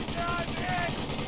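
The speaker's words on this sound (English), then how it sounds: "But you're seeing quite a bit of fire by these two MMG carriers" MMG carrier machine gun fire in the Company of Heroes video game: rapid, steady bursts of gunfire crackle through a dense battle mix, with faint talk partly underneath.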